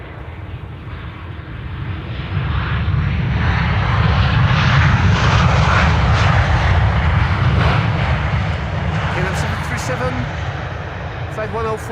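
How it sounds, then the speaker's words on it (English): Boeing 737 MAX 8 jet arriving at Amsterdam Schiphol from Izmir, Turkey, a steady, loud broadband engine roar that swells and holds across the whole stretch, with a voice talking over it. "We're starting with the MAX 8737 arriving from Izmir in Turkey."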